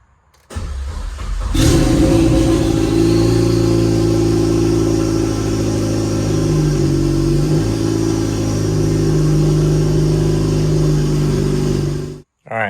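Dodge Caliber SRT4 on its existing tune cranks briefly, then fires and settles into a steady, loud idle with a slight flare early on, running close and alone for about ten seconds before cutting off.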